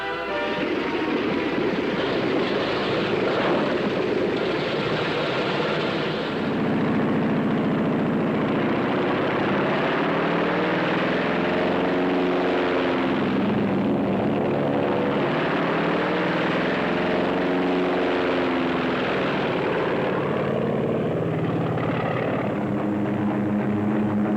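Engines of World War II carrier aircraft run at a loud, steady roar throughout, with a propeller drone that swells and shifts in pitch as planes start up and warm on deck.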